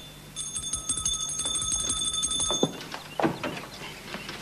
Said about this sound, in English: I've been ringing this bell for several minutes